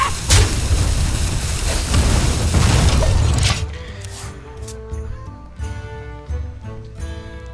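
Wild Pyromancer card played in the Hearthstone card game: a loud fiery boom and crackling burst, then a ringing, chiming musical tail that fades over several seconds.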